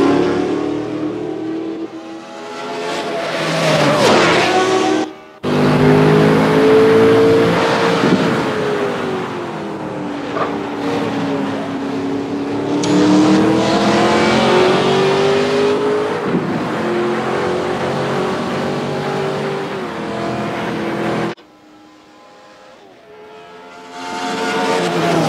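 Turbocharged race car engine in a video game: a continuous loud engine whine rising and falling through gear changes, with two brief drops where the throttle lifts and the revs dip.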